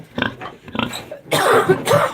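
Close pig grunts, a few short snorting bursts at first, then a louder, denser stretch of grunting and squealing toward the end.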